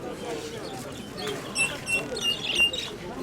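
Sparrow chirping at an outdoor fair in Dnipro, a few short bright chirps rising over crowd murmur and nearby voices, moderately faint against the busy background.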